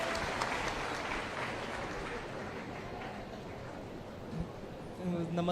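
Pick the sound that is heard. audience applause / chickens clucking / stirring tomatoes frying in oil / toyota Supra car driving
audience applause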